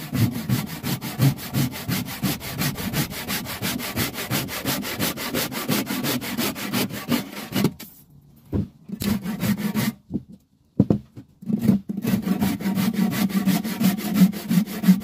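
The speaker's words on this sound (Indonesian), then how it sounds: "Kita potong kayu berukuran 21 ya." A freshly sharpened hand saw cuts through a piece of wood, its steady back-and-forth rasping strokes loud and close, pausing briefly midway before the sawing resumes.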